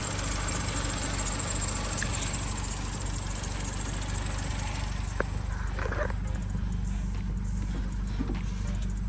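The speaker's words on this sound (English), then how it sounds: "It's probably going to need a auxiliary belt because you can hear that, but the timing chain sounds alright." A Vauxhall Corsa with about 104,000 miles and a worn auxiliary belt runs at idle, a steady close engine drone with a faint whine layered over it and a few light knocks and clicks partway through.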